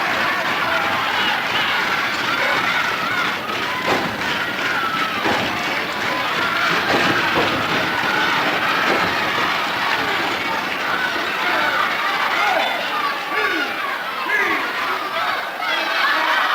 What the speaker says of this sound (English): Here are the fans here, clapping your hands, stomping your feet